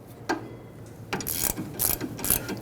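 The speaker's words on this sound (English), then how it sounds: "Use a 13mm socket and loosen up and remove both of these bolts that hold the caliper onto" A ratchet with a 13mm socket loosens the rear brake caliper bolts on a 2015-2020 Ford F-150, giving a close, clear run of rapid clicking pawl bursts.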